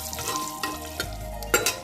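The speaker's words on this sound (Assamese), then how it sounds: "এতিয়া মই এইখিনি আধা মিনিটমান সময় অকণমান ভাজি ল'ম।" Whole cumin, cinnamon, cardamom and dried red chillies frying in oil in a pressure cooker, a soft steady sizzle with a few brief clinks and stirring scrapes, close and quiet.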